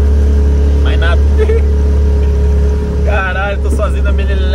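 The engine of a small motorboat at sea near rocks hums loud and steady with a constant low drone throughout, while someone talks over it.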